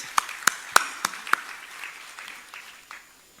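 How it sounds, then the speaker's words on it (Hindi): A few separate, sharp claps ring out from an audience at a regional industry conclave in Jabalpur, spaced about a third of a second apart, then give way to faint, scattered clapping that fades. "इसके लिए जोरदार तालियां होनी चाहिए"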